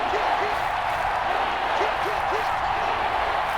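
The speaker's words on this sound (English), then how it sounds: "And this crowd urging on their defense." A football stadium crowd in a Washington versus Chiefs Madden video game roars and cheers steadily as a dense, continuous wash of noise beneath a commentator's talk.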